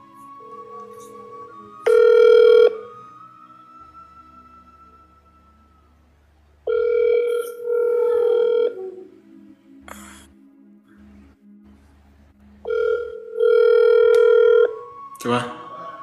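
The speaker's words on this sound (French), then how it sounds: "ça sonne sans réponse là" A telephone rings out with no answer, three long electronic ringing tones spaced several seconds apart, each clear and loud against near silence, with faint rustles between them.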